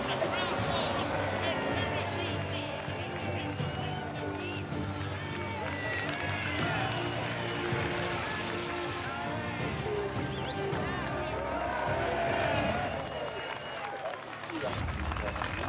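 A crowd roars at a motorcycle race, a loud continuous wash of cheering and noise lasting throughout, with a commentator's voice layered over it.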